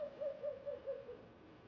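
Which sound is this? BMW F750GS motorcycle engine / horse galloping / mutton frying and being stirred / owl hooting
owl hooting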